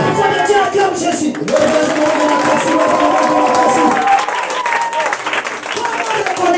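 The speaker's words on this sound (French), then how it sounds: "Un enfant de Dieu acclame Jésus." A church congregation acclaims Jesus with sustained applause and cheering, a dense, loud crowd roar with clapping that fills the whole stretch without pause.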